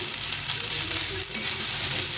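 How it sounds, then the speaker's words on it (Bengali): Leftover cooked rice frying in a pan, a continuous loud sizzle and crackle with occasional stirring, close and steady throughout. "এটাকে ভালো করে ভাজতে হবে অনেকক্ষণ ধরে"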